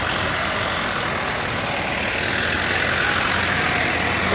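A tow truck towing a car on a street, a steady loud engine rumble with broadband roadside noise that holds constant throughout, no talk.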